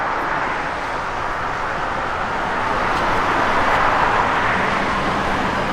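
A 1957 Chevrolet Bel Air V8 with headers and Smitty mufflers gives a loud, steady, broad exhaust rumble that swells slightly midway, with no talk over it.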